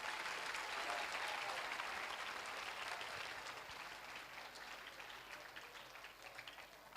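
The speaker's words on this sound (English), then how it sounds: "Let's give them a round of applause again." An audience at a Teachers Day celebration applauds a performance with sustained, even clapping that eases slightly toward the end.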